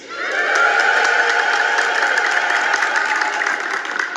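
A church congregation in Ethiopia ululates in praise, a sustained wall of high trilling voices that swells in quickly and holds loud and steady throughout.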